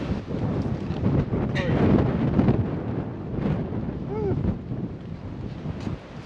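Gusty wind buffeting a microphone, a rough, rumbling roar that swells and eases, with faint indistinct voices and squeaks in the background.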